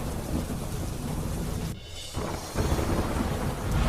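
Heavy monsoon rain pours steadily in Gujarat, a dense, loud roar of falling water with a brief lull and a low rumble, with no voices.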